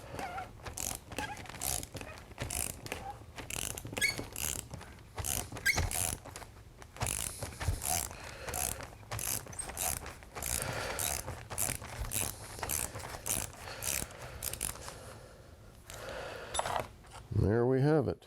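A wrench works a nut loose on the vent window of a 1967-72 Chevy pickup, with close, dense bursts of ratcheting clicks and scraping repeating throughout while someone talks intermittently.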